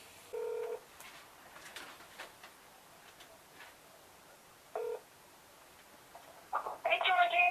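Telephone keypad dialing tones: a short steady beep, a quiet stretch, a second brief beep, then a quick cluster of overlapping tones at the end, all close and clear over a faint room background.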